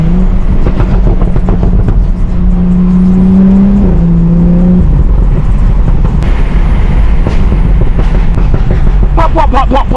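A BMW F30 335i with the N55 engine accelerates hard through the gears, loud and close, its rising drone stepping with shifts, then easing off with popping and crackling bursts near the end.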